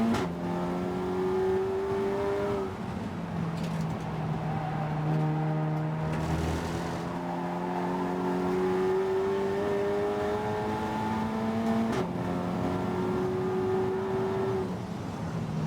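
Racing cars lap Snetterton circuit during a 750MC Roadsports race, with a Volkswagen leading, their engines droning steadily and loudly throughout, rising and falling in pitch as several cars rev and pass in succession, with no talk over them.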